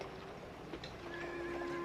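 A horse neighs faintly in a quiet setting in a Western film, giving a thin, wavering whinny that holds for under two seconds.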